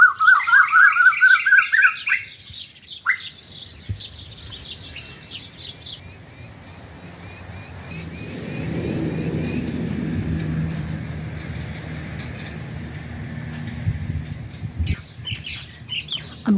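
Asian koels in spring, two birds quarreling in the morning, giving loud, repeated rising calls near the start, followed by fainter chirps and a low rumble in the middle.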